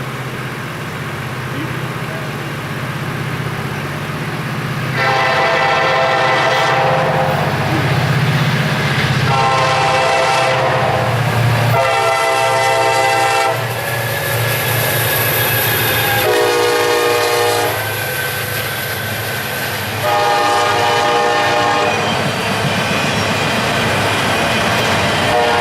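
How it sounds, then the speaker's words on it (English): A northbound CSX freight train rumbles past loudly and up close, its horn sounding in several long blasts over the steady roar of the train, with faint voices early on. "First catch this evening was CSX train L21213, a northbound from Baldwin, Florida to Louisville,"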